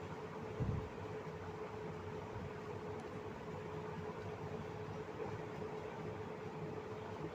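An electric wet grinder grinds soaked lentils in a home kitchen, giving off a steady, low mechanical whir with a constant hum that holds evenly throughout, aside from a brief knock near the start.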